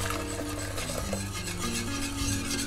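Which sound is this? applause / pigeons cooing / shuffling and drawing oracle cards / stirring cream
stirring cream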